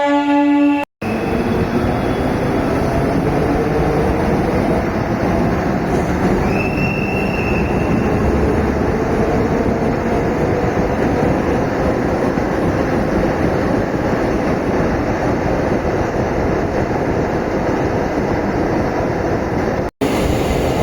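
A suburban elevated MRTS train runs steadily along the tracks between Velachery and St. Thomas Mount near Puzhuthivakkam station in Chennai, wheels rumbling and rattling continuously with a faint metallic squeal, loud and close throughout.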